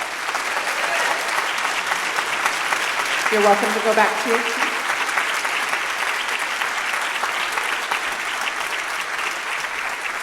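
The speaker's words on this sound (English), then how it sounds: "we can give them a round of applause" An audience at a morning education foundation event for students gives a sustained round of applause, a dense, even wash of clapping, with a brief spoken line from a single voice partway through.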